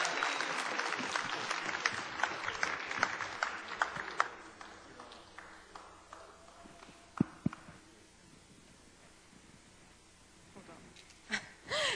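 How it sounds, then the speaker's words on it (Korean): An audience at a Seongsu-dong music concert claps warmly in a dense, steady burst that thins into scattered claps and near quiet, with a few sharp claps returning at the end. "뜨거운 박수."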